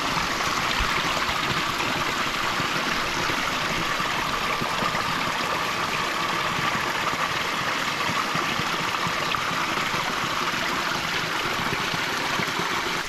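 A low-flow mountain stream trickling off a leaf used as a spout into a water container, a steady, dense, close splashing rush that holds unchanged throughout with no talk.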